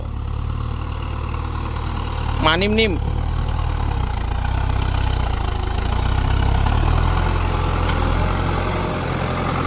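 A New Holland TD90 tractor's four-cylinder turbo diesel engine, 89 horsepower, idles steadily with a low, constant rumble throughout, while a voice speaks briefly over it.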